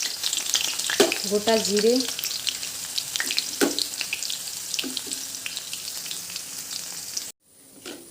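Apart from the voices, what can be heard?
onion and crushed garlic frying in hot wok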